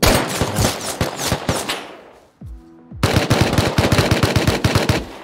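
Rapid bursts of automatic gunfire from the survival game Rust, loud and close, with a brief lull partway through before heavy shooting resumes.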